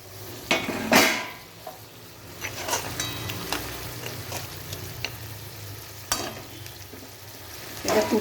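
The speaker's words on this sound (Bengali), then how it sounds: "এটা ফুটতে আরম্ভ করেছে," A pot of mixed vegetable curry with bori starts to bubble and sizzle, broken by several sharp clanks of a utensil against the pot, with no talking.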